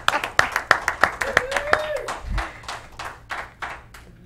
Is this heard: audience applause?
yes